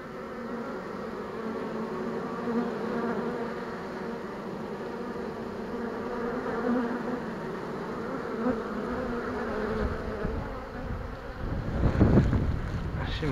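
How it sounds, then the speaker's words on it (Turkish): Steady, dense buzzing of a honeybee swarm in a tree filling the air, continuous and close, with a rustling gust of wind rising near the end. "Ağaçta biraz daha arı var."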